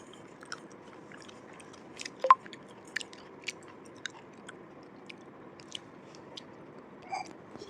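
A baby chews a snack up close, with soft irregular crunches and wet bites scattered across a quiet background, one louder crunch standing out.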